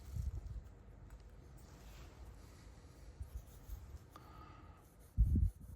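Pencil or marker scratching on wood while marking up a joint, soft intermittent scraping strokes, quiet and close, ending in a brief louder knock or handling thump.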